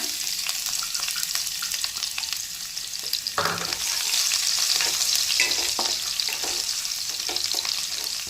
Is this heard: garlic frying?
yes